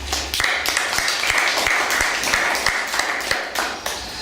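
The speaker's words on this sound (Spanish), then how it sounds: "también ruego para él un fuerte aplauso" Audience applause at a Spanish lecture event on liberalism, a moderate room full of clapping with a few sharper individual claps standing out, steady throughout.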